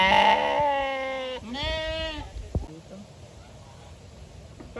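A donkey brays loudly at close range in a botanical garden in Caguas, a long harmonic call in two rising and falling bursts, followed by faint background sounds.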